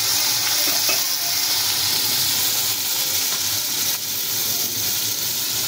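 Chopped tomatoes and pointed gourd frying in a pan, stirred with a utensil: a steady loud sizzle and hiss throughout with occasional soft scraping strokes.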